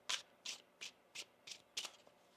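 Tarot cards are shuffled by hand in six quiet, evenly spaced riffle bursts, close and crisp against near silence.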